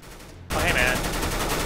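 Shotgun gunfire in Counter-Strike: Global Offensive: a sudden loud blast after a brief quiet start, followed by sustained dense rapid firing and in-game noise.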